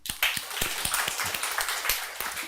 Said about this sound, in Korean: 우리 할렐루야 박수